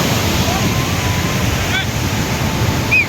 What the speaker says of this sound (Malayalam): വെള്ളച്ചാട്ടം കുത്തി ഒലിച്ച് വരുന്നുണ്ടോ